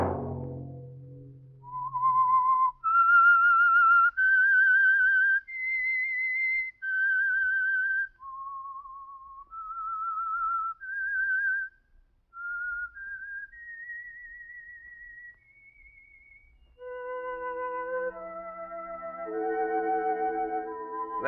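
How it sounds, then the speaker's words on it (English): A lone whistler performs the radio program's eerie theme signal, a slow melody of clear sustained notes stepping up and down, followed by soft orchestral chords entering underneath near the end. "Let that whistle be your signal for the Signal Oil program, The Whistler"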